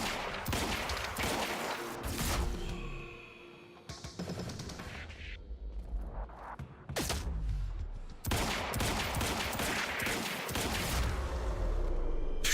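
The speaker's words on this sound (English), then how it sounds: "Then we get the open fire!" Gunfire in the shooter Quantum Break, heard as loud rattling bursts of rifle shots that come in repeated volleys broken by short quieter gaps.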